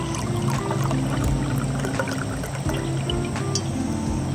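Tap water poured into a fancy wine glass at an outdoor picnic, a steady continuous trickle with light splashing and faint clinks, close by for several seconds.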